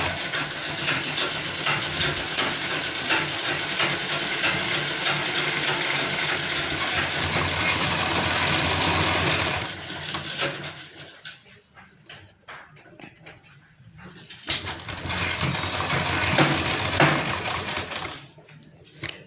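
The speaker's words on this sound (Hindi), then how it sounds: "हम बिल्कुल इसके सेंटर से सिलाई चलाते चले जाएंगे" Sewing machine stitching along the centre of a folded kurti neckline. A loud, dense, continuous mechanical whirr and rapid needle clatter runs close for about ten seconds, stops briefly amid quieter handling noises, then resumes before fading.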